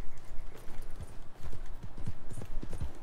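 Rapid, rhythmic hoofbeats of a galloping horse, close and fairly loud, with a steady thudding pattern over low rumble.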